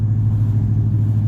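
A loud modified Dodge Charger engine driving through town, heard from inside as a deep, steady, continuous rumble with no talk.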